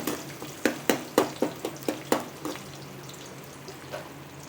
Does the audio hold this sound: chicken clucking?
no